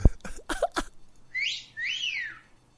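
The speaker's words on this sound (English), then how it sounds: "You're whistling at me" A person whistles two rising-and-falling tones at a circus, following a few sharp knocks or coughs, clear and fairly close with no talk over it.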